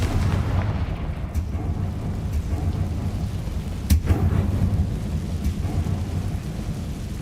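A Confringo fire spell explosion from Hogwarts Legacy on PC rumbles as a low, sustained roar with a sharp crack near the middle, heavy and continuous like distant thunder.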